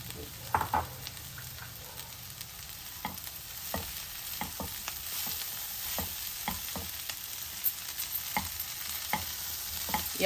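Thinly chopped potatoes fry softly in a pan with curry leaves while a spoon stirs them, giving scattered scraping taps and clicks over a quiet, steady sizzle close by, with no talking.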